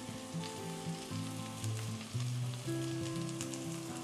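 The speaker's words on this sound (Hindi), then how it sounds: "और इनको हल्का सा सौते करें।" Capsicum and mixed vegetables for chow mein sizzle steadily in a hot pan, a soft continuous frying hiss with faint stirring scrapes, no voices over it.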